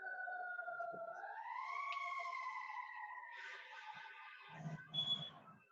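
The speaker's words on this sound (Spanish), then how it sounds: "¿Escuchan las sirenas?" Emergency sirens wail outside, a rising and steady two-tone howl held for several seconds, fairly clear but distant through walls, with a brief rumble of other noise near the end.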